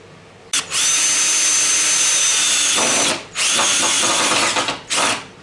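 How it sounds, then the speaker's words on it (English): Loud, close power drill whirring in long sustained bursts as it drives screws into a wall, stopping twice briefly between runs, with a faint mechanical rattle as it drives in. "time to attempt this without drilling through my finger"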